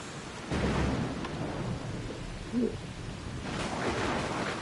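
Steady rain falls with low rolling thunder rumbling underneath in the video game Assassin's Creed Shadows, swelling in a couple of louder surges.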